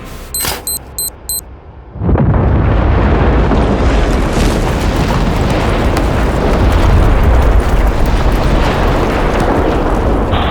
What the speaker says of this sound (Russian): Взрывные работы проведены удачно.